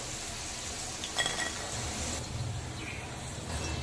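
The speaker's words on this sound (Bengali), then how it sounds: "ঠিক একইভাবে বাদবাকি সবগুলো ধীরে ধীরে ভেজে নেব।" French fries crackle and sizzle in hot oil while frying until crisp, a steady close hiss with a few faint clinks of utensils partway through, with no talk.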